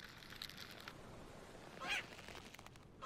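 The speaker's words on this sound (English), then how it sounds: "Little quacking things." Small quacking creatures in a fishing video game honk and squawk in a short burst near the middle, over a steady hiss of game ambience.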